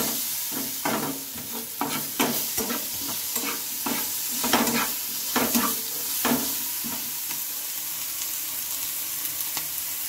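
Chopped tomato stir-fries in a hot pan, giving a constant loud sizzle with a quick run of scraping stirs for the first few seconds before the frying settles into a steady hiss, with no talking.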